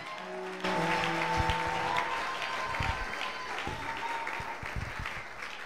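A church congregation breaks into applause: steady clapping from many hands starts abruptly and carries on, with scattered cheers and voices mixed in, moderately loud and roomy.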